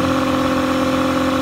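A boat's motor runs steadily on a lake, a continuous mid-pitched engine drone with a strong hum, close and loud, holding constant speed with no voices.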